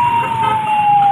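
Fire truck siren on a street in the Philippines, a loud close wail holding a steady high tone throughout.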